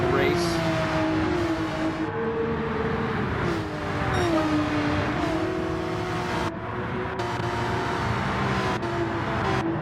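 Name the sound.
race cars driving through a turn in Gran Turismo 7 video game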